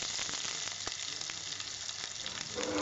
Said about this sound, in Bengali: এবার আমি তেলের মধ্যে পেঁয়াজগুলো ছেড়ে দিলাম